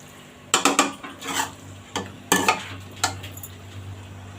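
A spoon scrapes and clinks against a cooking pot as palak chicken is served into a dish, several distinct scoops and taps spaced over a few seconds with a faint low hum beneath.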